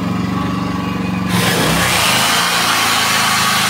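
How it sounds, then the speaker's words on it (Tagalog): A chainsaw powered by a Toyohama inverter portable generator starts partway through, its loud, steady buzzing motor whine taking over from the generator's lower, even hum. "Test natin sa chainsaw."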